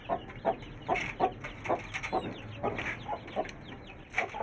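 A hen in a backyard coop clucks repeatedly in short, uneven bursts, close and fairly soft, with no voices.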